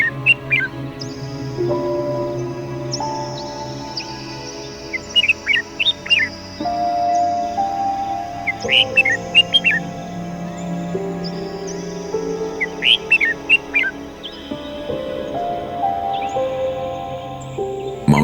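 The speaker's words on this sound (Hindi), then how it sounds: "Mountain Bulbul, mountain Bulbul, इक्सोस मैक्लेलैंडी।" Mountain bulbul (Ixos mcclellandi) in hilly, dense forest giving short bright calls in three separate bursts, fairly clear over a steady low background drone.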